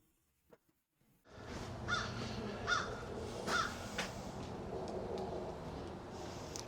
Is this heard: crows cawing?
yes